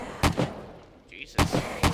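Rifle gunfire in the video game 7 Days to Die: two quick close shots, a short pause, then two more, each a sharp thump of moderate loudness.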